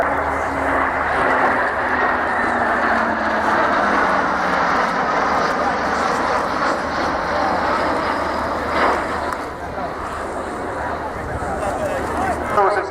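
An aircraft at the Dunsfold air display makes a broad, loud engine roar that rises and fades as it passes, with a commentator talking over it throughout.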